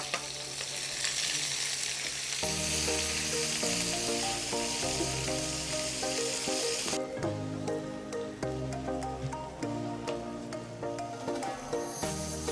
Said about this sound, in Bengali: এখন দিয়ে দেব পেঁয়াজ কুচি